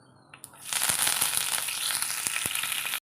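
Curry leaves dropped into hot oil for a Kerala mango curry burst into a loud, sudden crackling sizzle that stays dense and spitting after a quiet start, with no voices.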